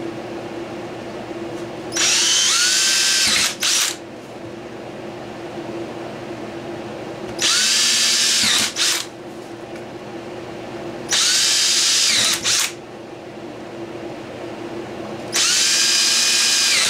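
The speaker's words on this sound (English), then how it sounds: "we are going to drill holes in the four corners" A power drill whines loudly in four separate bursts of about two seconds each, drilling holes in the corners of a panel, with quieter pauses between them and no talking.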